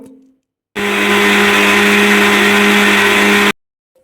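A kitchen mixer grinder with a juice jar churns milk cream with water to make butter for ghee, a loud steady whirring drone that starts abruptly, runs about three seconds and cuts off, with no voices.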